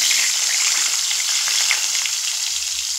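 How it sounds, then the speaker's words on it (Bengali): Cut potatoes frying in hot oil for a rohu fish curry, a loud, close, steady sizzle with faint crackles that runs unbroken for several seconds, no talking. "এবার যে আলু আমি কেটে রেখেছি আলুগুলো ভেজে নেব"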